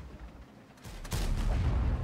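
Cannon fire from an M48 Patton tank battle on a tundra map in World of Tanks, a couple of short thuds then a heavy deep boom with a rumbling low tail that stays loud to the end.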